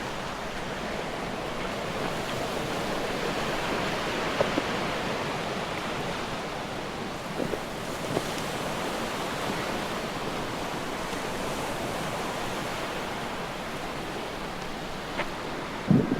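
Surf breaks on a beach on the spit at Port Fairy, a constant broad wash of wave noise, steady and enveloping, with a few small thumps near the end.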